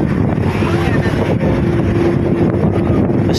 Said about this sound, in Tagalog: Dito medyo malakas yung hangin, kaya ramdam mo yung yung alon,